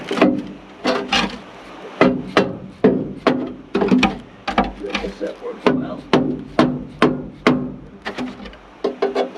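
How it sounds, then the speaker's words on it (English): A series of sharp, regular taps from a dead blow hammer during maintenance on a Classic Edge 750, about two per second, close and fairly loud, with brief pauses between strikes. "This is a dead blow hammer. It works well for this type of application."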